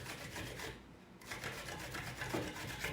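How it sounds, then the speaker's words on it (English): A knife cutting zucchini into very thin strips on a board, quiet rasping strokes repeating in a steady rhythm with a brief pause partway through. "really cut thin strips of zucchini"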